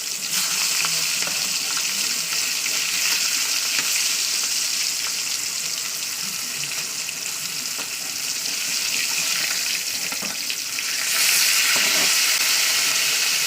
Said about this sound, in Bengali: তো চলুন আমি উল্টে দিই মাছটা, দেখতেই পাচ্ছেন মাছটা বেশ ভাজা হয়ে গেছে।